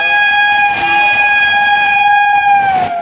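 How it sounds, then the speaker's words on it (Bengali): A train at a station on the Howrah–Burdwan chord line sounds its horn in one long, loud, steady blast lasting about three seconds, then bends slightly in pitch as it fades at the end. "ট্রেনটা আমার পুরো বুক কাঁপিয়ে দিয়ে চলে গেছে।"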